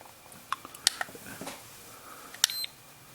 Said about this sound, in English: hold it, and it'll sit there and beep a couple of times